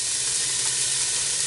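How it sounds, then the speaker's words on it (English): Green onion sizzles steadily in a tablespoon and a half of hot sesame oil, a close, even frying hiss that continues without a break. "I'm dropping it into a tablespoon and a half of sesame oil"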